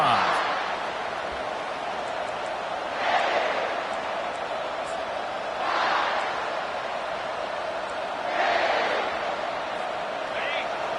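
A stadium crowd in the college football game NCAAF 25 roars in a steady wash, swelling in several loud surges every few seconds.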